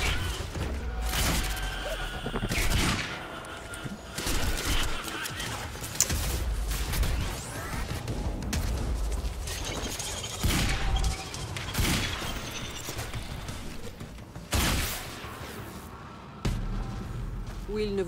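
Quantum Break gunfire cracks out in a series of irregular loud shots and bursts, some followed by crashing impacts, mixed with talking throughout.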